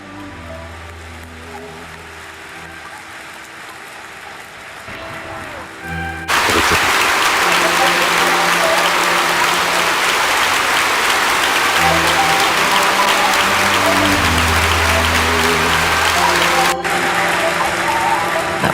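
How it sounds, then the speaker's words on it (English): A vast crowd outside Westminster Abbey at Princess Diana's funeral breaks into applause, heard from within the abbey: a sudden surge of dense, rain-like clapping that swells and holds steady, loud and continuous. "The world began to clap."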